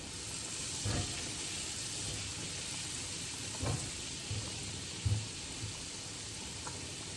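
Shallots and shrimp for scampi sizzle steadily in a hot pan, a soft continuous frying hiss broken by a few brief louder crackles and stirring knocks, with no talking.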